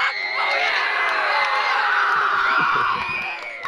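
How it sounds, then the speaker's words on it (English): An enthusiastic audience at a staff versus scoutmasters volleyball game screams and cheers nonstop, a dense wall of shrill shouts and whoops close by, easing off slightly at the end. "Or like the sound of them screaming behind us"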